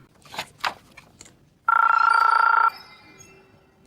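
A ringtone rings out from a Nokia phone as a loud, bright ringtone lasting about a second, after a few faint knocks and handling noises.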